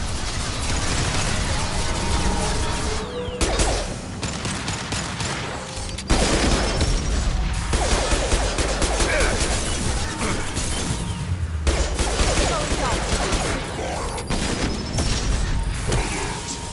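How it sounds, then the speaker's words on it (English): Sustained bursts of rapid weapon fire from the Mass Effect 2 video game, loud and dense, with brief pauses and mechanical clanks between volleys and heavy impacts low underneath. "Firing a high-impact shot."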